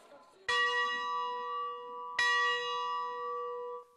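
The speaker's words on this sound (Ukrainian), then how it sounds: "Символічні 7 ударів у дзвін" A memorial bell sounds two clear strikes, each a sharp attack followed by a long ringing, shimmering decay, loud and close.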